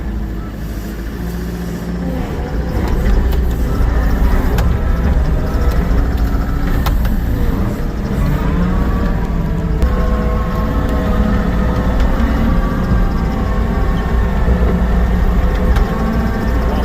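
Skidder engine running steadily at a logging site as it sweeps up roots and branches: a loud, continuous low rumble that barely varies throughout.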